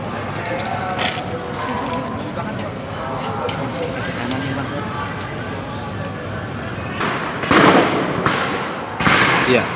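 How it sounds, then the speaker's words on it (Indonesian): At night outside the Mako Brimob gate on Jalan Kwitang in Jakarta, tear gas launchers fire amid a crowd, giving scattered sharp bangs, with two louder close blasts near the end, over murmuring crowd noise and voices. "ada tembakan gas air mata ke depan sana"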